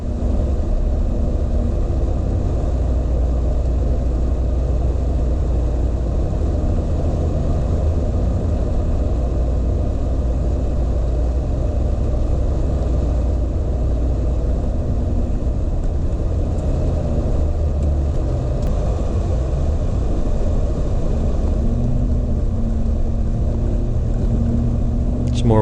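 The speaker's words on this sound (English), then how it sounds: "More wheel spin here, trying to get up this." A Land Rover on mud tires, spinning its wheels while climbing a steep hill at a rally event, gives a loud, steady engine rumble and drone that continues without a break, with a voice faintly underneath.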